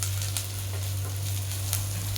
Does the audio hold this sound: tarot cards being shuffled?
no